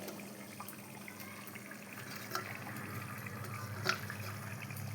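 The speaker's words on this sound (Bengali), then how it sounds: "এই জলটুকু আমি দিয়ে দিচ্ছি" Water is poured into a pan of fish curry, a soft, faint trickle and splash running steadily under a low background hum.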